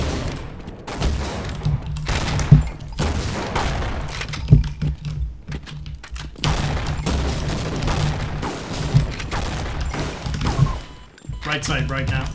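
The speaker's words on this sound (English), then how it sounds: "I threw a nade on you, guy." A grenade goes off in Science & Industry, a multiplayer shooter, one boom among bursts of gunfire and other explosions while players talk over voice chat.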